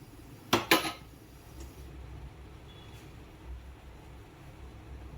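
A metal pan clatters on a gas stove in a home kitchen before oil goes in for tempering, a couple of quick close clanks followed by a low steady hum.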